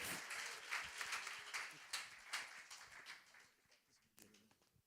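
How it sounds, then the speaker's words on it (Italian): Applause for a pastor at a church service, a crowd clapping steadily with some voices mixed in, fading over the last second. "give him a wonderful hand of applause"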